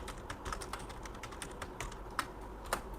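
Fingers type code on a computer keyboard in a steady run of light, close key clicks, with a couple of sharper taps standing out against a soft room hiss.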